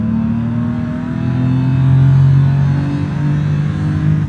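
BMW car engine revving with a deep, droning tone that swells in pitch and loudness through the middle, loud and close, with no voices.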